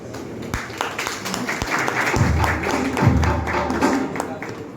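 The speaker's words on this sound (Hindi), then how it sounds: "चलिए ताली जोरदार होनी चाहिए ना" Applause from an audience at a Jharkhand Pradesh Congress meeting, dense clapping of moderate loudness mixed with crowd murmur and voices talking through it.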